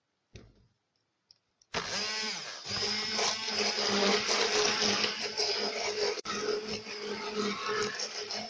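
Olive oil and flour stirred together in a small tray for homemade soap, a steady close scraping and clicking that starts after a short pause and runs on without talk.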